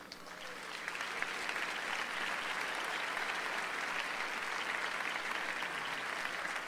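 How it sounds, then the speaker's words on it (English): Sustained applause from a conference audience in a large hall after a plenary lecture, a dense even patter of many hands that swells in the first second and holds at a moderate distance. "Huge applause."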